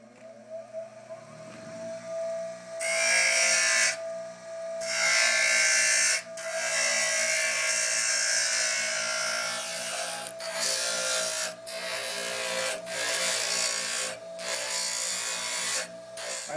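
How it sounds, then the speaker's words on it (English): A bench grinder shapes a metal batarang piece, letting out loud, harsh grinding bursts that start and stop repeatedly over a steady motor hum. "Okay, and so now we're going to the grinder."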